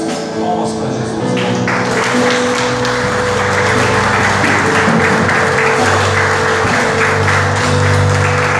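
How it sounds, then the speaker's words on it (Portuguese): A church congregation clapping in applause, dense sustained hand claps layered over music and voices throughout. "Palmas para Jesus."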